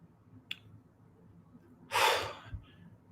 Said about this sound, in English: take a breath in